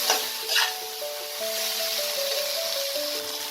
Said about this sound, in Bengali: দিয়ে মশলার সাথে খুব ভালো করে এটাকে আমি মেশাবো।